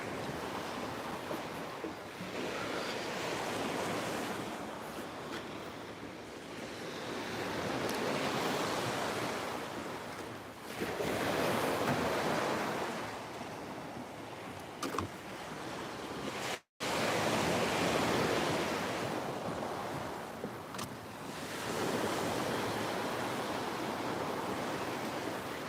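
Ocean waves washing onto a beach on Spain's Costa del Sol, a steady broad roar that swells and recedes in slow surges, with wind buffeting the microphone and a brief dropout partway through.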